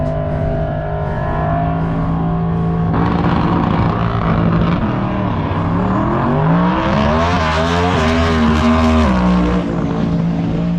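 A pro mod drag race car at a drag strip launches and spins, its loud engine holding a steady high-pitched roar before sweeping upward in pitch and dropping off, heard close and alone.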